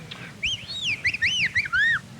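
A person's voice imitates the mating call of an Australian web-footed whangdoo bird with a run of rising and falling whistled chirps, clear and close in a quiet room.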